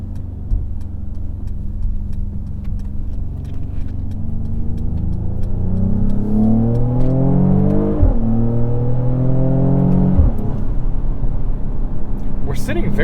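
A 2022 Mercedes-AMG GLE 53 SUV engine revs up in a parking structure with rising pitch, peaks, drops, then revs again, loud and close with a deep throaty tone.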